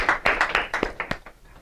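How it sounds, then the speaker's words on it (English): A small group gives a short round of applause at a seminar session, a handful of distinct, close claps in quick irregular bursts that thin out and stop within about a second and a half. "All right, let's give her a round of applause."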